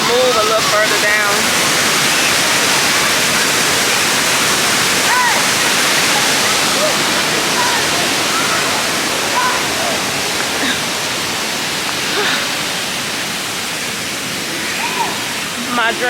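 Waterfall pouring in hot summer weather, a loud, steady broadband rush of falling water close by, with faint gurgles and brief bird-like chirps over the constant roar.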